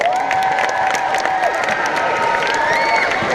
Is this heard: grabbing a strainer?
no